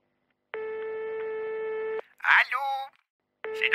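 Telephone tones with no answer: a steady, harmonically rich electronic tone sounds for about a second and a half, breaks off, and starts again near the end, with a short burst of voice in the gap.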